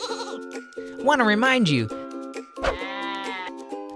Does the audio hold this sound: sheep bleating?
yes